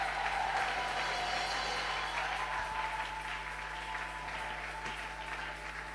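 Church congregation applauding and acclaiming to welcome a pastor, a continuous roar of many hands clapping with faint cheering, steady and full throughout.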